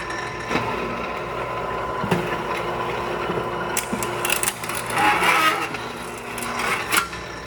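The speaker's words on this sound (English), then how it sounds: "you see it almost gets that 90 just through the Pittsburgh machine" A Pittsburgh lock seam machine rolling light-gauge sheet metal, giving a close, continuous mechanical rattle and whir with metallic clicks and clanks scattered through it.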